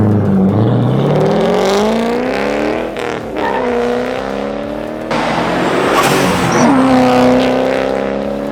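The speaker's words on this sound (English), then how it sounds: "Now this exhaust does sound pretty awesome." A loud, deep turbocharged Ford Mustang exhaust with a custom dual front bumper exhaust revs up and down repeatedly, engine pitch climbing and falling in long sweeps, close to the source.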